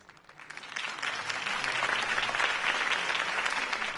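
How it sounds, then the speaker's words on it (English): Crowd in the Batman: The Telltale Series game applauds after Harvey Dent's campaign speech, clapping swelling from a soft start into a full, steady wave of applause. "If only Mr. Wayne, my campaign's largest backer, could have heard that applause"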